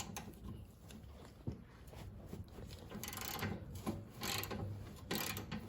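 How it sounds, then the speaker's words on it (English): Ratchet wrench clicking as bolts come loose on the muffler bracket of a 2019 Indian Chieftain Limited, with quiet bursts of rapid ratcheting, a few sharp metallic knocks, and no talking. "There are two bolts, so we're going to go ahead and take those off."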